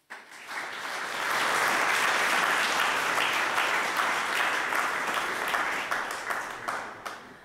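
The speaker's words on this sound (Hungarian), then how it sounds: "Hadd kérjek neki egy nagy tapsot." An audience at an art exhibition opening applauds artist Baráth Fábián, the clapping swelling quickly into a loud, steady round that holds for several seconds before tapering slightly at the end.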